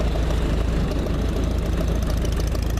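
A worn-out 1951 ZA engine runs steadily with a dense, low rumbling drone that stays constant and loud throughout, without talk.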